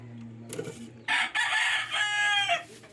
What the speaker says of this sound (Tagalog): Hingi ng manok, sorry.